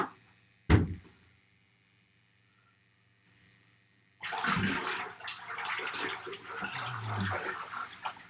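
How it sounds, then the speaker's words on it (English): Water poured into a bath: a sharp splash at the start, a few seconds of near silence, then a sustained rushing pour with gurgles filling the tub, close and moderately loud. "I'm gonna actually pour a little bit more in there"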